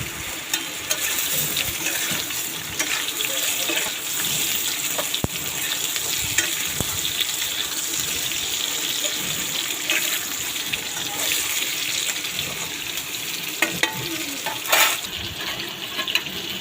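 Small pieces of mango are stirred and mixed in hot oil in a pan, giving a steady sizzle and frying hiss with occasional scraping and clinks of the utensil, close by and without talk.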